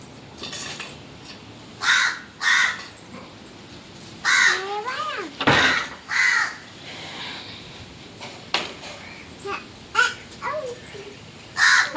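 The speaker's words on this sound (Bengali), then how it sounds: "আমাদের বাড়িতে কাক মামা এসেছে" Loud crow caws arrive in short bursts of two or three calls, near and harsh, on a rooftop by a makeshift stove, with a few quieter caws between them and no talk.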